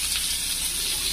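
Sliced onions frying in hot oil with dried red chilli, a bay leaf and whole cumin give off a steady, close, hissing sizzle with no pauses.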